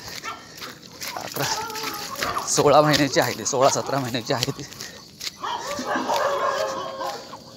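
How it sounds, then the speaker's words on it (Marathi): Village street dogs bark and whimper close by at a golden retriever. Several short yips and barks overlap with a person talking throughout. "बघा सगळे डॉग हुकायला लागले तिच्यावरती"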